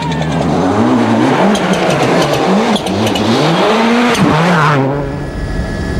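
A Mitsubishi Lancer WRC rally car at the 2004 Monte-Carlo Rally roars close by, its engine revving hard with rising and falling gear changes before the sound pulls away and fades.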